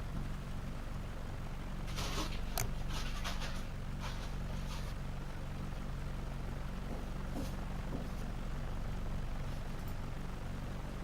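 A Cessna 172 propeller engine drones faintly and steadily while taxiing in X-Plane 11, with a low, even hum running throughout and a few light clicks on top.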